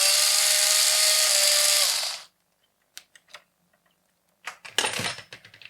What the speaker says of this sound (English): Now I'm going to unscrew the battery.